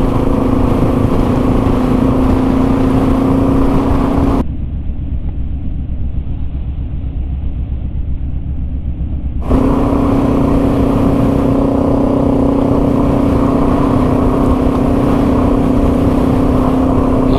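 A Yamaha TW200 dual sport motorcycle rides on Lake Superior ice. The engine drones loud and steady at close range, dips to a muffled rumble for a few seconds mid-ride, then returns to a steady strong hum.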